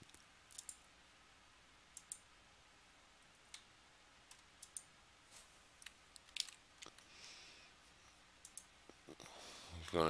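Computer mouse clicking while working in Surfcam CAM software, a handful of faint, sparse clicks scattered through a quiet room.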